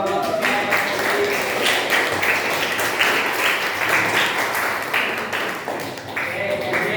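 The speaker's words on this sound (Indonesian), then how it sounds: "beri tepuk tangan" A classroom of students claps for a group, producing a steady, fairly loud wash of applause that lasts throughout, with faint voices mixed in.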